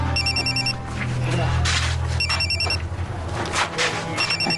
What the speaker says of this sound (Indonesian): Sastro telepon, Du